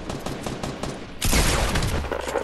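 Rapid gunfire in the video game Fortnite, a dense burst of repeated shots that swells into a louder, sustained volley halfway through, with no talking.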